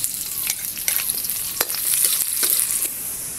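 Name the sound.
sautéing garlic and onion in a pan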